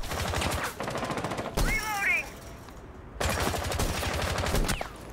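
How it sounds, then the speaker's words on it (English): A gunfight in Rainbow Six Siege: loud rapid bursts of automatic fire rattle up close, break off briefly with a short whistling sound, then resume in long sustained volleys. "I was in the longest gunfight ever with that cheater"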